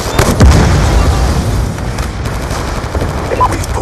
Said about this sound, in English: Hostiles have destroyed your explosive!